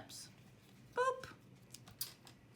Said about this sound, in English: They're not called scissors, they're called snips.